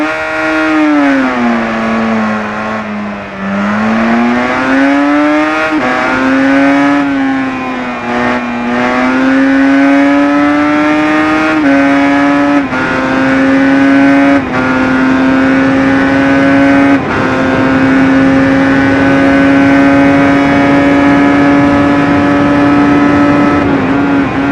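Yamaha RD500LC, a 1985 liquid-cooled 491cc four-cylinder two-stroke street motorcycle, in the RIDE racing game: a loud, steady, buzzing engine held near constant revs, with a dip and a few rises and small gear-change breaks, no talk.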